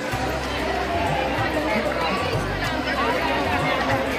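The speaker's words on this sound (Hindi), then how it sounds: "यहाँ पे भीड़ बहुत अच्छी है, बहुत सारी भीड़ हो रखी है" Crowd of devotees at the entrance of Mehndipur Balaji temple, a dense murmur of many voices and shuffling footsteps, steady and close throughout.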